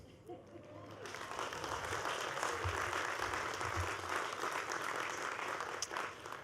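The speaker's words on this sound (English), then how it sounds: "A way to get cheap applause" Applause at a university commencement ceremony, a large crowd clapping steadily and fairly loudly throughout with a few scattered voices.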